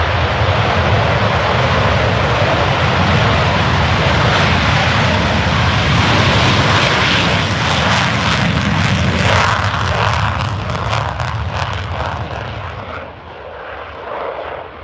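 A fixed-wing military jet at RAF Lakenheath roars loudly and steadily from close range, its broad rushing engine noise shifting in tone before it fades somewhat toward the end.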